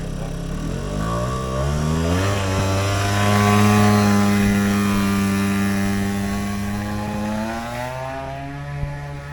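Aprilia SR50 scooter engine running while riding, a steady buzzing drone that climbs in pitch as it accelerates and then holds, loud and close, with steady road and wind noise and no talking.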